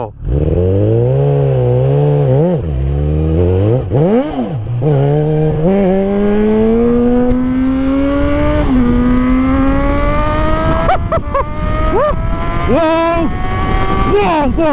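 A tuned Suzuki Hayabusa superbike holds 4th gear while its rear wheel spins in a skid, the engine loud and close and climbing steadily in pitch, with brief bursts of voices underneath.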